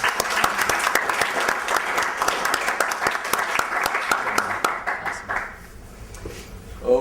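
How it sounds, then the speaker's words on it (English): A small group applauds in a room, dense close hand claps lasting several seconds before tapering off, with a voice briefly heard at the end. "Round of applause."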